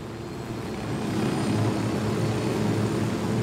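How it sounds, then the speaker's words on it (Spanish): A helicopter in the video game Ghost Recon Wildlands gives a steady, fairly loud rotor and engine drone that swells slightly and then holds, with no voices over it. "tenemos tu helicóptero."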